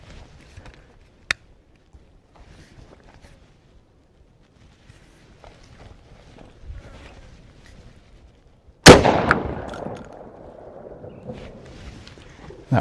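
Tactical shotgun fired once at a target on an outdoor range, a single loud sharp blast near the end followed by a ringing decay, with a quieter isolated click or pop earlier and faint background noise.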